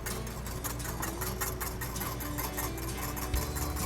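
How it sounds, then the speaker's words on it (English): A whisk beats a beer and vanilla batter for apple pie onion rings in a bowl, producing quick, evenly spaced ticking strokes at a soft, close level over a faint background hum. "I'll whisk that in."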